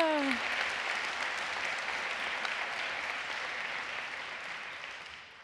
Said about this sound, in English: Yeah, clap for yourselves.